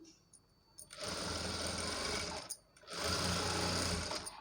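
A sewing machine runs in two steady, close bursts of stitching as piping is sewn onto cloth, with a short pause between the runs.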